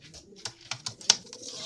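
A Madrasi pigeon in Kolkata gives low, soft coos mixed with several sharp, brief rustling bursts, all close by with no talking.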